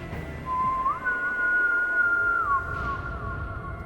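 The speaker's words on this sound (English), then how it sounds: "And it was a whistle, very loud in my ear." A loud, sustained whistle holds a steady pitch with slight rises and falls, clear and close, inside a museum during a nighttime paranormal investigation.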